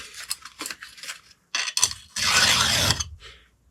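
A hand file rasps across a chainsaw chain tooth being sharpened: several short, close scraping strokes, then a longer, louder, smoother stroke, with brief pauses between them.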